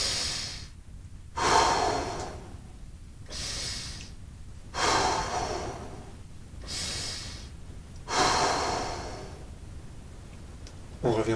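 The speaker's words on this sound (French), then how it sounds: "Et on va faire 6 inspires par le nez," Slow guided breathing during a fascia twist exercise, with six or so loud, close inhales through the nose and exhales through the mouth in an even, unhurried rhythm, with no talking.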